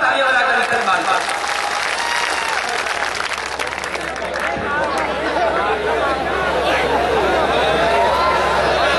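A concert audience gives loud, sustained applause to welcome a ghazal singer in Pratapgarh, a dense wash of clapping with crowd chatter underneath.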